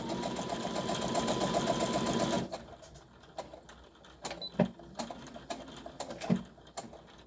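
Sewing machine stitching straight across fabric, a loud rapid mechanical whir for about two and a half seconds, then stopping, followed by scattered clicks and fabric handling.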